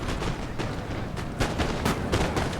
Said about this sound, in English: Putting a bit more accurate fire down on them.